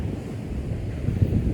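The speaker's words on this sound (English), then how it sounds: "First look at the Atlantic Ocean." Atlantic Ocean surf at Nags Head on a cold, windy day, a low rumbling wash of waves with heavy wind buffeting the microphone throughout, loud and continuous.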